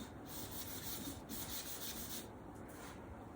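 A blade drawn repeatedly across a sharpening stone, quiet rhythmic scraping strokes close by with short pauses between passes, no talking.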